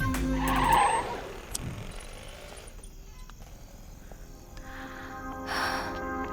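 A car brakes to a stop in an action-romance film scene, with a brief tire skid near the start, then engine noise and clicks settling under a quieter background.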